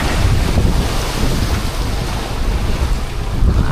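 Steady roar of wind and surging water, waves washing continuously with a rumbling low end and gusty noise over the microphone.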